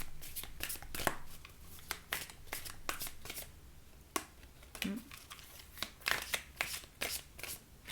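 Oracle cards being shuffled by hand at close range: a run of quick, crisp riffles and slaps with short pauses between bursts, fairly quiet and with no talk.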